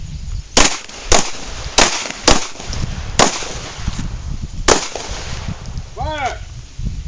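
Pistol gunshots at a combat pistol workshop ring out as six sharp, loud reports at uneven intervals, each with a short metallic echo, against outdoor background noise, followed by a brief warbling tone near the end.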